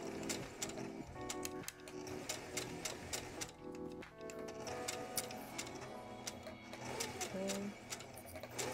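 A sewing machine stitches straight lines on fabric, its rapid needle ticking running steadily and close throughout with brief dips, while a voice speaks over the mechanical rattle.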